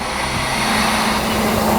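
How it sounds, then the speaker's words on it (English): Air hisses steadily out of a bus's suspension bellows as the bus lowers, a loud, continuous broadband rush with a low hum beneath it, with no voices. "That's the sound of the air coming out of the bellows."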